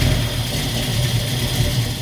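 A 1975 Ford Maverick V8 idles with a steady, loud, close rumble that holds even throughout the short stretch.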